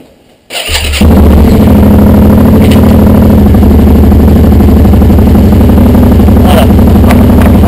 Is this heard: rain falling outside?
no